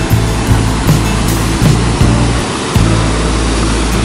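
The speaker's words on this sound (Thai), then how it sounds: "คลื่นกำลังขึ้นนะครับน้ำกำลังขึ้นแล้วก็คลื่นกำลังแรง" Strong ocean waves surge at Tanah Lot, Bali, a loud close wash of surf with rhythmic thumping rushes as water rises against the shore.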